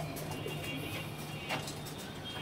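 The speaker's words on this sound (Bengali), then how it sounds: "এই এক জোড়া কবুতর আছে আমার" A pair of breeding pigeons in a breeding room coo softly and steadily, a low murmuring call repeating close by over a faint background hum, with no talking.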